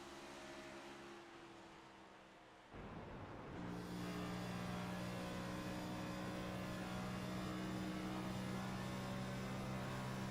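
A NextGen race car engine drones steadily at Las Vegas Motor Speedway, its tone dipping as the driver works the clutch, then settling back into a sustained, even whine for the rest of the clip.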